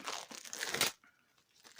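Board game packaging for The Great Race being torn open, a loud burst of ripping and crinkling for about a second, then near silence with faint rustles.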